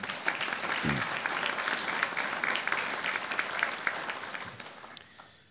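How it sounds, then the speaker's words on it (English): Audience applause at a Pasadena Police promotions ceremony, honoring the families who supported the promotees; a steady, dense patter of many hands clapping throughout, fairly even in loudness and tapering slightly at the end. "a round of applause for you all that have supported them"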